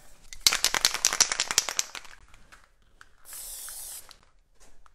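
A spray paint can rattles in quick shakes for over a second, then releases one steady, loud hiss of spray lasting nearly a second, close to the microphone with no talking.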